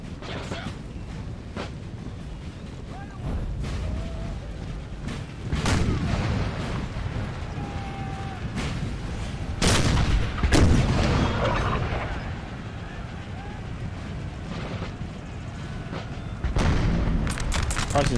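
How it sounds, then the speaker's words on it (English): Artillery batteries fire repeatedly during a Napoleon: Total War battle, with deep booms and sharp cracks recurring irregularly over a continuous rumbling battlefield din, several loud blasts standing out near the middle and end. "they've already got 2 sets of artillery firing on those positions"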